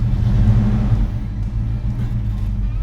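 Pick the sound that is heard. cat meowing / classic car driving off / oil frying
classic car driving off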